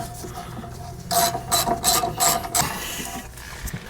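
A ratchet tightens a 15 mm bolt on a caliper bracket during brake work on a 1997 Mustang Cobra. Several quick bursts of close clicking follow a quieter lead-in.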